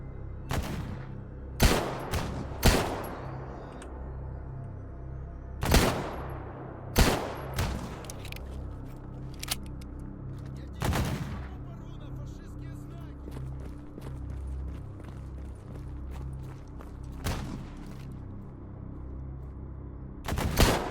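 Gunfire from a pistol and a shotgun in S.T.A.L.K.E.R. GAMMA rings out as sharp, separate loud shots spaced over about twenty seconds, with a steady low background hum between them.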